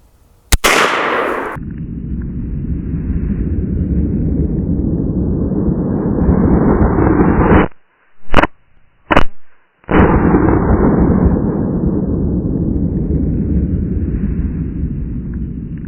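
One sharp, loud .357 Magnum shot of Underwood 140-grain Extreme Penetrator ammunition, fired about 20 yards from the target, cracks at the very start, then a steady broadband rush carries on to the end with brief dropouts.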